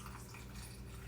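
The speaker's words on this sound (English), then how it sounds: "you just pour it right on top of your onions" Pickling brine is poured from above onto onions packed in a glass jar, making a brief, quiet, steady liquid trickle with no voices.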